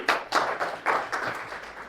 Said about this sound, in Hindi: एक बार अपने लिए ताली बजा लीजिए